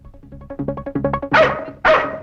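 A dog barks close by, first in a quick run of short yips and then in two louder, fuller barks.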